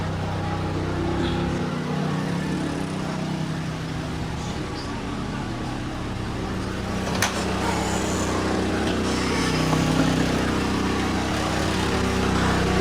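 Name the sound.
generator running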